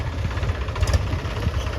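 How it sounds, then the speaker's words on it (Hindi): A tractor engine runs with a steady low rumble and idling throb, close by, alone with no talk over it. "देखिए ट्रैक्टर पर ट्रैक्टर आबि रहल छै"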